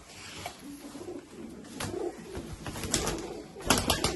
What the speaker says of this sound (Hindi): ये आपको चंद कबूतर दिखाए हैं जी पकड़ के